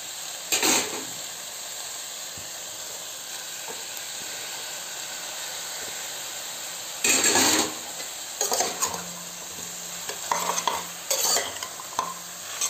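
Vegetables tipped into a hot pan with ginger and garlic, then stirred and fried for a chicken stew: a steady sizzle with bursts of scraping and stirring, close and fairly loud.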